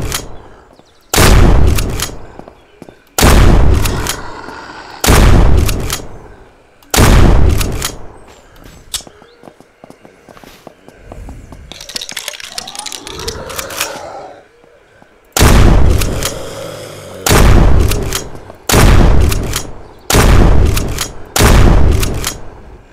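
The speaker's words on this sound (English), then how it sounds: "Let's go ahead and shoot him in the head." Loud, close gunshots from a firearm in the SurrounDead video game, heavy booming blasts fired in spaced bursts, with busier softer in-game noise in the middle stretch.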